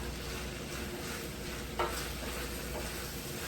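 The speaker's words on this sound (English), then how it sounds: "we are going to fold our shrimp and steak into the pasta" Shrimp and steak bites folded into garlic butter pasta in a pan give a quiet, steady sizzle with a soft stirring scrape partway through.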